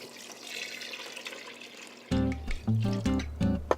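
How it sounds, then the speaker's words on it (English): Milk poured into a pot of cooking rice, a soft continuous liquid rush followed by uneven splashing bursts, close by. "Let's add our 4 remaining cups of milk."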